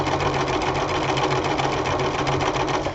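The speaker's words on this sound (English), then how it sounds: "So all I'm going to do is sew straight, and my stitch is a lot longer." A sewing machine runs continuously, stitching a long straight gathering stitch on fabric for a ruffled apron, a close, steady rapid mechanical whirring with no voices.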